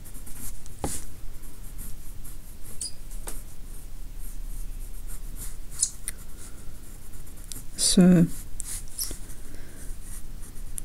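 Pencil sketching on paper, a soft steady scratching of graphite strokes running throughout with a few sharper taps and one louder scuffing stroke near the end, close up, with a brief spoken word at the start.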